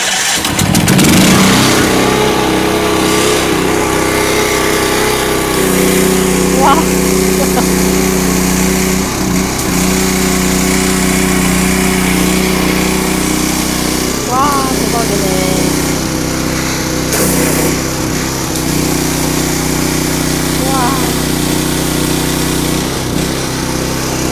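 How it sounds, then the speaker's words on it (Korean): An 18-horsepower Yamabishi engine on a seawater high-pressure washer, used to clear barnacles at a seaside fishing village, starts after choking and then runs steadily and loudly close by, while people talk over it. "야마비시 엔진인데 이거 몇 마력짜리인가요?"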